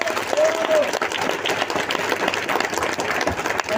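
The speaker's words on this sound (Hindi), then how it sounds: "दोस्तों एक बार जोरदार तालियां होनी चाहिए।" An audience applauds at a motivational talk, with dense, steady clapping from a crowd lasting throughout.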